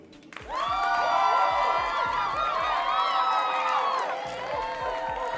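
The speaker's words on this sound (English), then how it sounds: "Round of applause to that brother." A live audience bursts into loud cheering, whooping and applause that swells quickly and holds steady for several seconds. Shouts and hand claps are mixed into a busy crowd roar before it eases slightly near the end.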